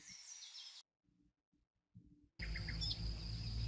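Birds chirping and tweeting in bursts, a quiet gap with faint low thumps in between, then the birdsong returns over steady background noise.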